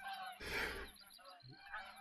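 A gaggle of geese honks in a burst of loud, overlapping calls, then scattered honks continue at a middle distance outdoors during a hunt.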